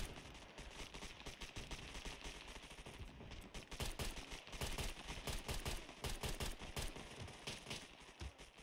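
Dense bursts of gunfire from the Scum survival shooter, rapid overlapping shots with some automatic fire, loud and continuous for several seconds with no talk over them.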